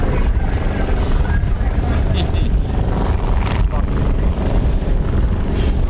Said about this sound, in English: Lovely, lovely aircraft.